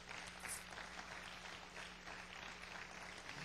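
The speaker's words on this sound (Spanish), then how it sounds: "Dale un aplauso al Señor." A church congregation applauds together in steady, continuous clapping that carries on for several seconds, moderately distant within the room.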